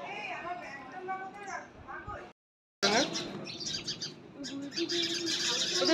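Small birds chirp busily near a Sai Baba temple in Kolkata, rapid overlapping tweets at moderate distance that carry on under people talking, with a short silent gap partway through.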